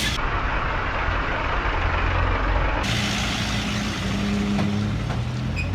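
A car engine runs steadily throughout, a dense, continuous rumble with constant loudness and no talk, sounding like the drive from inside or right beside the vehicle.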